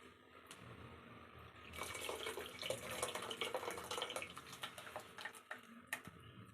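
Tamarind water poured into a clay pot for fish curry, a steady close splashing and trickling of liquid that swells after a quiet start and runs on with small drips and clinks.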